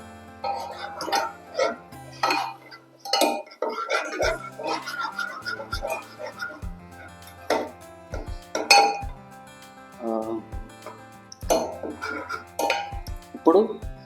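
A spoon stirs chili flakes into a Chinese-style fish fry in a metal pan, making scattered sharp clinks and scraping knocks against the pan. People talk throughout, close by.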